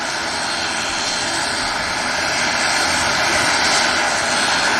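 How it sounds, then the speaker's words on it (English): A propeller airliner departs for Belfast, its loud engine and airscrew drone growing steadily stronger and closer over several seconds with a bright tonal buzz above. "off to Belfast, the prop"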